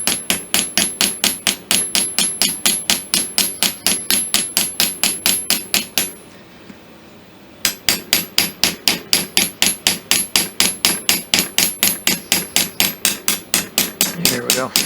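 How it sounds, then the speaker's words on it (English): A hammer strikes repeatedly while cold forging a ram rod pin for a Kibler Colonial flintlock kit, sharp, close, evenly spaced blows that pause briefly midway and then resume at the same steady pace. "I am now cold forging that pin to move the material down to where I want it to be"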